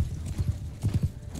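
Horse hooves clip-clop in the game Mount and Blade Bannerlord, a few loud, close, rhythmic low thuds in quick pairs over a steady murmur of battlefield ambience.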